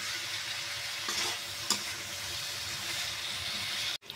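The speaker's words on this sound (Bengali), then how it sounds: "করলা ভাজি আমার অর্ধেক ভাজা হয়েছে, আরও ভেজে নেব" Bitter gourd frying in a pan with prawns makes a steady close hissing sizzle, broken by a couple of utensil scrapes and a brief cutoff at the end.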